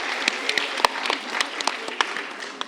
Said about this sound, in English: So a big clap for them